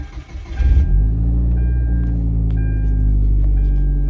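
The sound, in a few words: Hyundai Genesis 2.0 car engine at start of test drive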